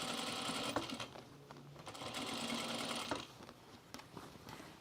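Sewing machine running steady bursts of top stitching along a seam on pants, a continuous mechanical whir that pauses briefly and restarts, close and moderately loud.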